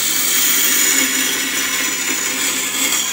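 Steady high-pitched whine of a bowl gouge being sharpened on a grinder, a continuous bright grinding hiss held evenly throughout without pause.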